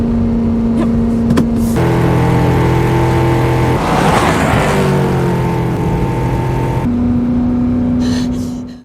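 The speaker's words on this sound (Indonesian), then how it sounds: "Kemudian ia langsung menggeber mobil untuk mencari truk derek yang mungkin masih bisa ia kejar" A car engine revs hard and roars as the vehicle speeds off in pursuit of a tow truck, loud and close, with the pitch climbing and surging through the middle before settling into a steady drone.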